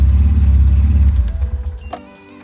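A Nissan 240SX S14 engine idles right after an oil change, a loud steady low rumble that fades and cuts off near the end, leaving a faint click and quiet.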